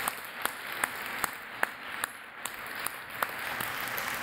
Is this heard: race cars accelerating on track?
no